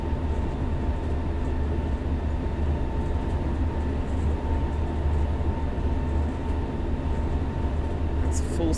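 A ČD Class 843 railcar at full throttle in a train simulator on the Liberec to Stara Paka line, giving a loud, steady diesel drone with a deep low hum and constant rail rumble throughout.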